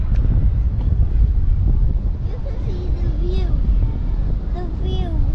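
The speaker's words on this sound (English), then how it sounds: "It is windy up here." Strong wind roars high up at the top of Blackpool Tower, a steady loud buffeting rumble across the microphone while a person talks over it.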